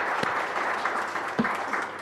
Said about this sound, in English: would like you to join me in giving them a big round of